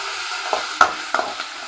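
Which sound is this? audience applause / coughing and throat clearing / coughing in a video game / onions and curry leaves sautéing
onions and curry leaves sautéing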